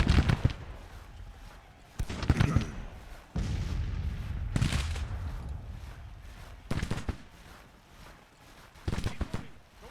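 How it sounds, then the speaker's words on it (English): Musket volleys crackle in the Civil War strategy game Grand Tactician, heavy booming bursts of massed gunfire rolling out in several loud waves across the battlefield, with voices calling out between them. "Nice initial volley right there."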